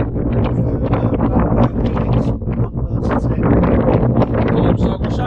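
Strong wind blasts across an exposed hilltop at the Long Man of Wilmington in East Sussex, buffeting the microphone with loud, continuous roaring gusts.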